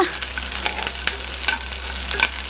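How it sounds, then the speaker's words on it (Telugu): Green chillies frying in a pan, giving a steady hissing sizzle with small crackles and occasional spatula scrapes, close and continuous with no talking. "జాగ్రత్తగా ఇలా కొద్దిగా వేయించు వేయించుకున్న తర్వాత"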